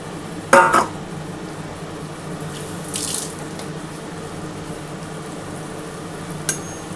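Spiced water for mustard ilish bhapa is poured into a kadai, making a short splashing gush near the start, then a faint trickle and one small later splash against quiet kitchen background.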